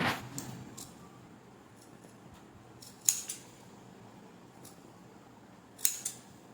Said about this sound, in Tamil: இப்போ நான் இது கட் பண்ணி காட்டுற பாருங்க